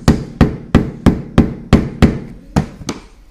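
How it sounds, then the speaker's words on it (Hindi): Hammer striking a steel file about nine times in a steady rhythm to raise its teeth while making a wooden hand plane, each blow a sharp close metallic knock with a short ring. "यहाँ से ऐसे रख के और इसके ऊपर से चोट मार देनी है"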